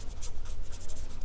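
Someone writes on a board during a classroom science lesson. Steady, close scratching strokes run without a break, with no talking.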